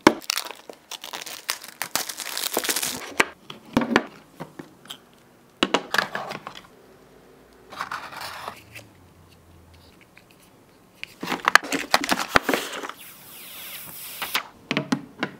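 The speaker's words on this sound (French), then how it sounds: "on va déballer ensemble le Galaxy Note 10 Plus" Samsung Galaxy Note 10 Plus being unboxed, with bursts of crinkling, tearing and scraping packaging separated by quiet pauses, close and fairly loud, no talking.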